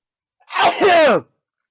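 A single close, loud sneeze: a quick inhaled build-up followed by a sharp, voiced burst that fades within about a second.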